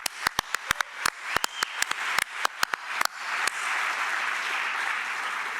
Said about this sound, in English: So maybe a round of applause for.